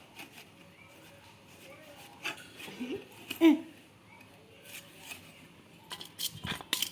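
Raw green mangoes being chopped for pickle, a few sparse knife cuts and clicks at close range, quiet and intermittent with small handling noises between them.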